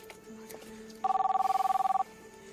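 A telephone rings with one rapid electronic trill, about a second long, standing out clearly over quiet room noise.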